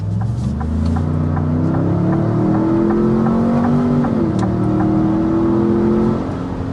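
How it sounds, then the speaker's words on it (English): A 2025 full-size SUV accelerates uphill to 60 mph with a loud, steady engine drone that climbs gradually in pitch, heard from inside the cabin with no talking. "that was taking us up to 60 miles an hour, and we were going uphill as well"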